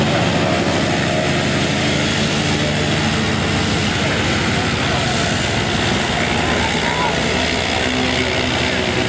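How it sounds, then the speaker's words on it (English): Propeller-driven Marchetti aircraft flying aerobatics at an air show, a steady loud engine drone throughout with wind-like broadband noise, while a commentator's voice runs over it. "The Marchetti aircraft is, of course, a highly manoeuvrable aircraft."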